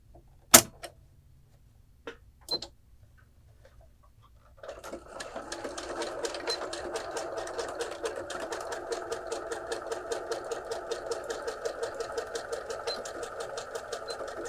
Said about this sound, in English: We're going to do a zigzag stitch.